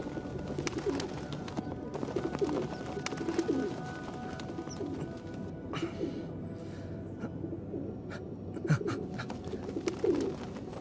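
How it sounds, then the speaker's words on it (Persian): Pigeons or doves cooing softly in an animated scene, a low repeated coo recurring every second or so beneath a steady murmuring background. "نمیخوای به این پرنده کمک کنی؟"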